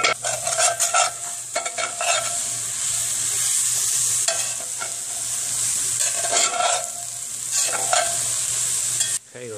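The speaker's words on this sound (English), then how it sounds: "Now I'm going to get to stirring. Stir that up." Hash being stirred in a Dutch oven over a campfire: close, steady scraping and sizzling with repeated spoon strokes against the pot for about ten seconds, with no talking.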